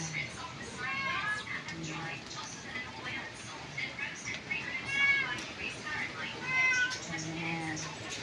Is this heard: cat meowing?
yes